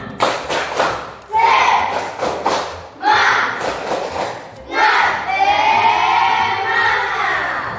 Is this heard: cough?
no